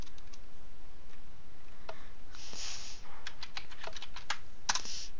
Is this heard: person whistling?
no